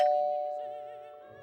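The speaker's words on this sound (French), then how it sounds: "Timbre de la sonnette." A single electronic doorbell chime rings out clearly, its tone slowly fading away in a quiet room.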